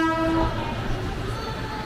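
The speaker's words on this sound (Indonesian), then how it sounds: "Oh, ada kereta bandara juga nih." An airport train at a Jakarta station rumbles past with a steady low roar, a short horn-like tone at the start fading into rolling rail noise.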